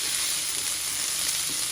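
Vegetables dry-frying in a pan with little oil for potato and chickpea burgers, a steady, loud, continuous sizzle with no pauses.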